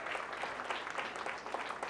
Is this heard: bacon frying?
no